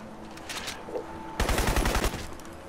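Automatic gunfire in the video game Crysis, a sudden loud burst of rapid shots lasting under a second after quieter game ambience, then fading.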